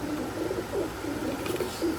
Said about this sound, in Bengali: অনেক চঞ্চল প্রকৃতির কবুতর এরা।